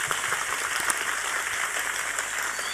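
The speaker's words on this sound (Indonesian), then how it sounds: "Tepuk tangan buat NU." Steady crowd applause at a religious Maulid gathering, a dense continuous patter of many hands clapping at moderate volume with no voices on top.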